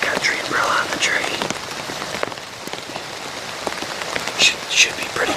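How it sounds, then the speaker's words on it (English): Heavy rain falls steadily on the ground and leaves of a wooded hunting spot in New York, a dense continuous patter with a few louder drips near the microphone and no talking. "It's raining pretty good."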